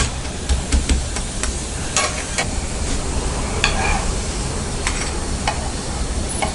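Palm jaggery sweet rotti cooking on a hot pan with its edges pressed down, giving a steady close sizzle and frying hiss with scattered scraping and tapping sounds throughout.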